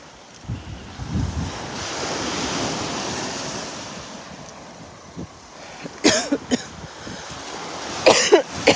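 Rough water surges in a fast, furious flow after a hurricane while strong wind buffets the microphone. A person coughs several times near the end, close and loud over the roar.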